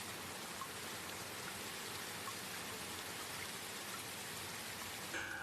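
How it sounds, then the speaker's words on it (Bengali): Raindrops fall onto umbrellas on a deserted rainy night, making a soft, steady, unbroken patter that stays quiet and even throughout with no voices. "বৃষ্টির ফোঁটা তাদের ছাতার উপর পড়ে টক টক শব্দ করছে"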